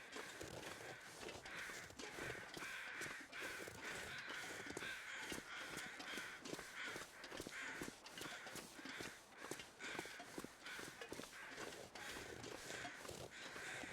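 Flock of crows cawing over and over in The Long Dark, a wilderness survival game, their harsh calls overlapping in a noisy, continuous chorus with no talk.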